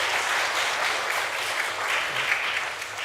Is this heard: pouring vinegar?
no